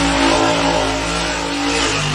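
Toy monster truck engine revving, a loud continuous buzzing drone with a steady hum, held unbroken and close without pauses.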